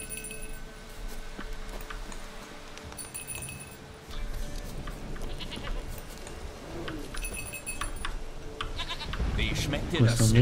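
A goat bleats repeatedly in the video game The Witcher 3: Wild Hunt, the cries rising over clinking and rustling game ambience that grows louder toward the end.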